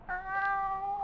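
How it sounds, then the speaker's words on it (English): A ship's cat in a radio drama gives one drawn-out, tonal meow, close and clear, with no voices over it. "and Satan was purring, meowing."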